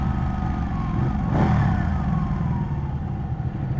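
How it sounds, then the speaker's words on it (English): An inline two-cylinder motorcycle engine hums steadily on a city street, a moderate, continuous drone that swells briefly as the bike passes close, then settles back to a steady hum. "This is an inline 2 motorcycle, so that is why the sound is bit less on this bike."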